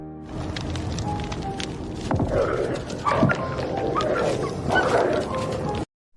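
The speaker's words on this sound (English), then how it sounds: "he heard several stray dogs fighting in the surrounding area" Several dogs snarling, growling and yelping together in a scuffle, some distance away, continuing for a few seconds before cutting off abruptly.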